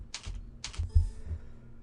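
Typing on a computer keyboard while entering an item in point-of-sale software: two quick clusters of soft key clicks, close and quiet, followed by a single thump and a faint hum.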